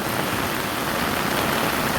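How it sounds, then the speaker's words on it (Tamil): Dense, steady roar of wind and rain from a cyclone's heavy downpour, loud and unbroken throughout with no voices. "காற்றும் மழையும் பெய்யுது"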